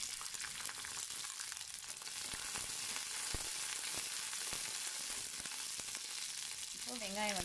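Small onions and slit green chillies sauté in hot oil for sambar, a continuous close sizzle with scattered crackles and pops, and a brief tonal clink near the end.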